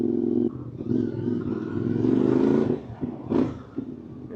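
A CFMoto MT450 adventure motorcycle fitted with panniers and crash bars rumbles at low revs, its engine note swelling as it pulls away and then easing, with brief clatter near the end.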